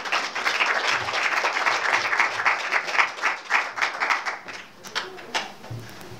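An audience at a 2019 Greek community seminar gives the evening's speaker a warm, dense round of applause that thins and fades out as a voice begins talking near the end.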